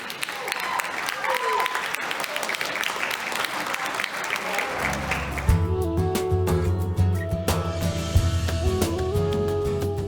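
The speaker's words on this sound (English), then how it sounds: "let's give a nice round of applause for John." Wedding reception guests applauding in a hall, a dense, steady burst of clapping from a crowd that carries on for several seconds, with a brief spoken voice at the start.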